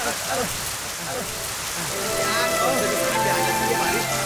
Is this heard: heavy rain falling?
yes